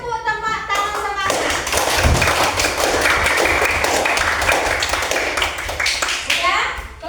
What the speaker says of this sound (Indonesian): Beri tepuk tangan semangat.